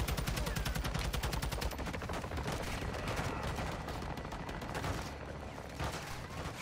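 Rapid belt-fed machine-gun bursts crackle through a Modern Warfare 2 campaign firefight beneath a tower, dense and loud at first, then continuing as steady overlapping gunfire with a few heavier reports.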